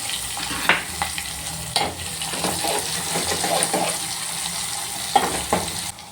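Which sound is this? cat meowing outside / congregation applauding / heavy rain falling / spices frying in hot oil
spices frying in hot oil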